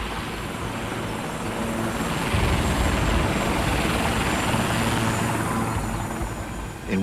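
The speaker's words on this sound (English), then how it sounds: "And the chopper started circling where we'd been." A helicopter circles overhead in the Colombian mountains, a steady, loud, broadband rotor and engine drone that swells slightly in the middle and holds for the whole stretch, with no talk.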